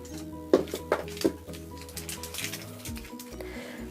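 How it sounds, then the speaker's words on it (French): A cat eating from a bowl: close, soft clinks and taps against the dish, a few sharper knocks early on, then quieter wet chewing and shuffling sounds. "Ça, c'est mon chat qui est en train de manger."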